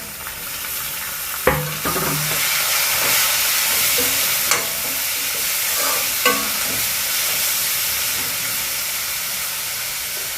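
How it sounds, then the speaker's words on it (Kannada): Onions frying in a pan for a homemade ridge gourd palya, with chopped tomato and green chilli added, give a dense continuous sizzle and hiss, broken by a few sharp clatters of stirring. "ಇವಾಗ ಇದಕ್ಕೆ ಕಟ್ ಮಾಡಿ ಇಟ್ಕೊಂಡಿರುವಂತಹ ಟೊಮೆಟೊ ಹಾಗೆಯೇ ಕಾಯಿ ಮೆಣಸನ್ನು ಒಟ್ಟಿಗೆ ಸೇರಿಸ್ತೀನಿ"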